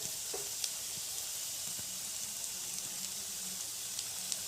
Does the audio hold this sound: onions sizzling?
yes